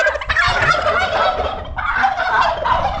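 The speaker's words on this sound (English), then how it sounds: "I don't know why our turkeys are making a lot of noise." Turkeys on a farm gobble loudly and close by in rapid, warbling bursts that run almost without pause, with two birds calling over each other.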